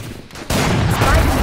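A burst of rapid gunfire in the video game Valorant erupts midway and keeps going, loud and dense, with game sound effects beneath it.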